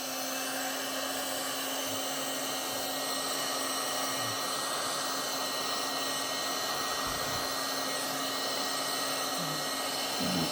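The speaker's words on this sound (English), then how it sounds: "I am going to use a heat gun." Heat gun blowing hot air onto inkjet printer shrink sheets set over a board, a steady, even whoosh that holds unbroken at a moderate level from start to finish with no voices.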